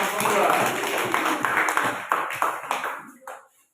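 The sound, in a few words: classroom clapping for group 2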